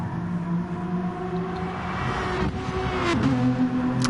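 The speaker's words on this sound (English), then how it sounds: "Do like the Aston Martin sounds." An Aston Martin race car engine in the video game GT Sport drones and whines at high revs, shifting pitch as it accelerates, steady and fairly loud throughout.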